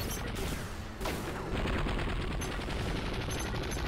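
A minigun fires in the mech video game HAMMER: a dense, continuous rattle of rapid shots that drops out briefly, then resumes louder and heavier.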